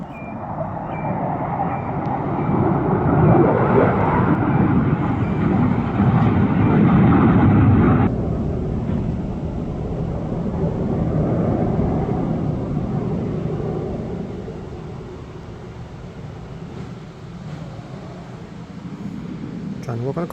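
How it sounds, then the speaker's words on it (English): A broad, roaring jet rumble from Blue Angels jets fills the air overhead, loud at first and then easing off as it passes, with a person talking underneath. "the Blue Angels are practicing, and they always end up flying over my house,"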